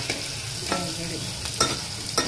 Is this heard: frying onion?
yes